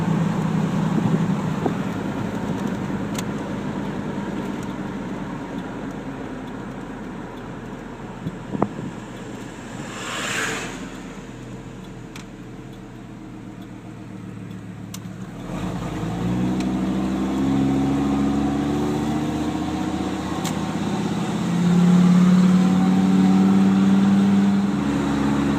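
A truck's V-10 engine running on wood gas gives a steady low rumble with wind buffeting, then the engine note swells and grows louder toward the end.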